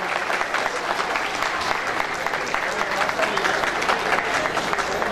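Wedding guests at a wedding hall clap for the couple's entrance, a dense, steady wall of crowd applause that continues throughout, with a voice faintly heard amid the clapping.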